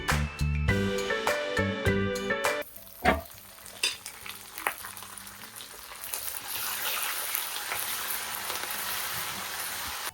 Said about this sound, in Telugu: ఇప్పుడు పోపు అయితే వేసేసాం కదా